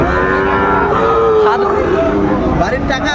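Cattle mooing loudly over a dense background of voices at a livestock market, with several drawn-out moos overlapping through the noise; the cattle include Sahiwal bull calves.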